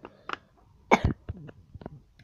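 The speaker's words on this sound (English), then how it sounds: "Again with the coughing." A few short coughs, one louder and harsher than the rest, close to the microphone in an otherwise quiet room.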